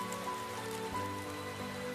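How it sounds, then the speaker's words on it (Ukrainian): A soft, steady patter of rain used as a sound effect in a children's autumn musical tale, faint and continuous beneath sustained musical tones. "Дощик йде усе частіше, схованку треба знайти швидше."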